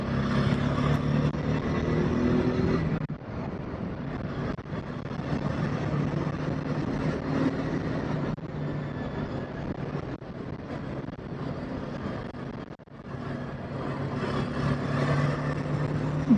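A TVS RTR 310 motorcycle cruises in sixth gear on cruise control. A steady engine drone is heard from the saddle, mixed with heavy wind rush and a few brief dips in the noise.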